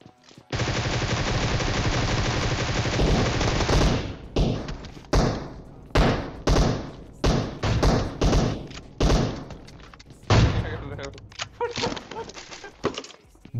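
Gunfire in the shooter game PUBG Mobile: a sustained loud automatic burst for about four seconds, then a string of single heavy shots fired at a steady rhythm, followed by another rapid burst near the end.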